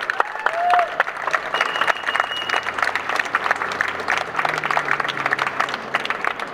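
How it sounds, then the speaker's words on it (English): Audience applause fills the room, a steady wash of many hands clapping at moderate distance. "Please keep your applause going for David."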